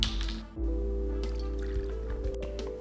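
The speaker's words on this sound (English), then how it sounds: "I'm gonna start by dumping in our espresso and then 2 ounces of vodka" Espresso and vodka pour into an ice-filled shaker tin, a close liquid splash and trickle over ice with a steady filling tone and small drips, alone without talk.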